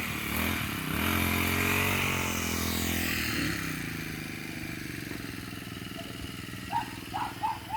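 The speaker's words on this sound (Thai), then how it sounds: "เดี๋ยวตินตัดหญ้าก็ไม่ใส่แว่นตาด้วย" An engine-powered grass trimmer cuts grass outdoors, its loud buzzing drone steady at first and then easing off, with a few clatters toward the end.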